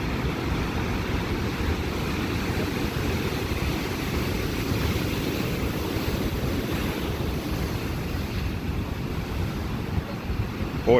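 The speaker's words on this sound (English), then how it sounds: "Boy, what a sight out here with these waves today." Ocean surf rolls in at Jennette's Pier in Nags Head, North Carolina, as a steady, loud wash of breaking waves mixed with wind rumble that never lets up.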